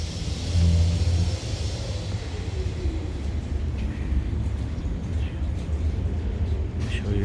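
BMW M6 pulling away, its engine giving a short rev and then a steady rumbling drone that fades slightly as the car drives out, with faint voices in the background.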